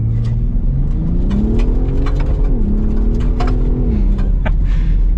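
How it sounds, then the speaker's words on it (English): Ford Raptor truck engine revving hard through a brake boost launch on an off-road trail, a loud sustained roar with rising and falling pitch, close and continuous with no talk. "Do a little brake boost launch."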